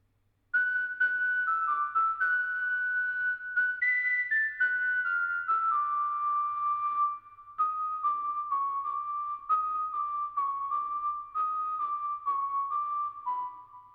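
A synthesized whistle made in Logic Pro X plays a slow electro swing melody alone, clear sustained notes sliding between pitches with a short pause midway.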